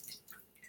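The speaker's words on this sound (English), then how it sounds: "the ramen noodles here. Just getting most of the water out." Water drains from cooked ramen noodles, producing a few soft splashy drips and trickles, close and faint, with no talking.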